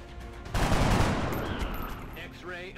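A burst of gunfire in XCOM: Enemy Unknown erupts suddenly, a loud, dense rattle that slowly decays into rumble and scattered debris, with a brief voice-like sound near the end.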